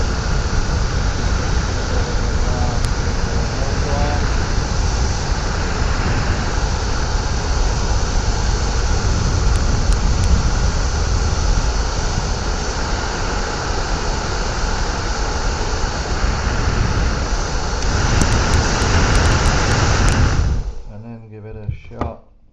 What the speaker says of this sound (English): Let's give this a blast with the whole hairdryer and see what goes.